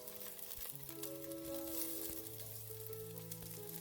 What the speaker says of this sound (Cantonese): 油熱之後呢，放入薑蔥蒜嗰啲。